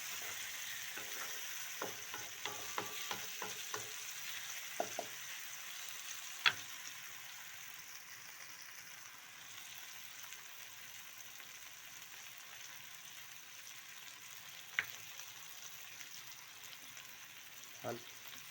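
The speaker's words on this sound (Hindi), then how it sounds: "काफ़ी अच्छे से फ्राई हो चुके हैं टमाटर।" Tomatoes frying in a pan give a steady soft sizzle, with several clinks and scrapes from stirring near the start and a few isolated taps later, at low level.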